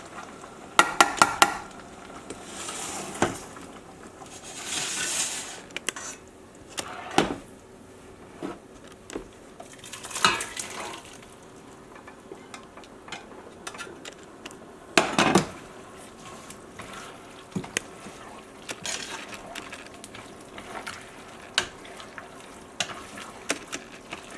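Shrimp, pork, vegetables and ramen noodles stirred together in a hot pan with the heat off, with scraping and clattering of utensil against pan in irregular bursts over a low steady sizzle.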